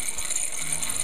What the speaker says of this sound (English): you push it together, put some pressure on it, and crank